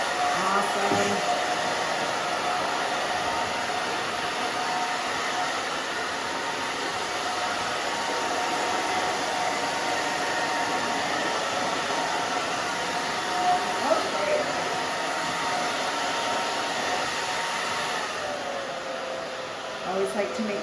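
A hair dryer blows steadily on a woman's very short pixie cut in a salon, a loud close continuous whoosh with a high whine, barely changing as it moves back and forth.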